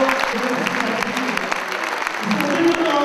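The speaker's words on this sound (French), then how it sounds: "Merci d'applaudir très fort" Audience applauding loudly at a French stage show, continuous dense clapping with scattered sharper claps and crowd murmur underneath.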